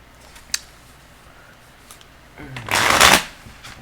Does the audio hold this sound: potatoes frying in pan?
no